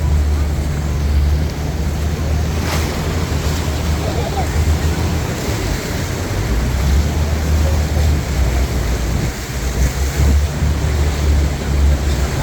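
The Rhine Falls roar as a continuous, loud, broadband rush heard from a boat right up close to the waterfall, with wind buffeting and voices in the mix.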